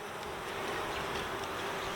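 Honey bees from an opened Layens beehive buzz in a dense, steady drone during an early-season hive inspection, close and continuous throughout with no pauses.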